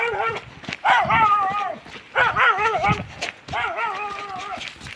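Dog barking inside an abandoned building, three bursts of several loud, close, echoing barks separated by short pauses.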